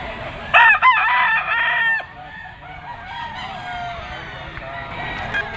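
A white, yellow-legged stag rooster crows loudly nearby at a pet market in Bocaue, Bulacan, a strong cock-a-doodle-doo lasting about a second and a half, followed by quieter background clucking and farmyard noise.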